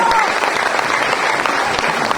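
An audience at a company event applauds, a continuous, fairly loud patter of many hands clapping with some voices mixed in.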